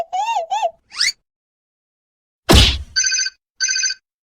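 A warbling electronic phone ring sounds twice, followed by a thump and two shorter bursts of a trilling ringtone, with silence between.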